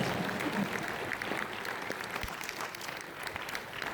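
Steady applause from the audience at a Hindi kavi sammelan poetry evening held at a camp, a dense wash of clapping that holds evenly at moderate loudness without pause.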